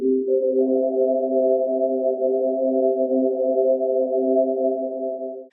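A steady synthesizer chord holds for several seconds, smooth and sustained, with a second note joining just after the start.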